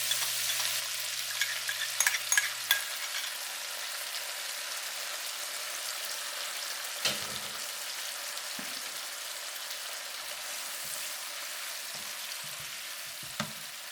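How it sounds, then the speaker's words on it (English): Oysters stir-frying with garlic and green onions get a premixed sauce poured into the hot pan. A steady, fairly quiet sizzle and crackle runs throughout, broken by a few soft knocks and stirring sounds. "After that, we put the sauce in it, the one we already mixed."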